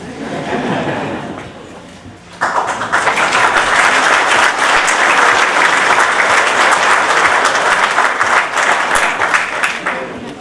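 An audience at a public talk and debate bursts into sustained, loud applause after a quieter moment of murmuring, the clapping holding steady to the end.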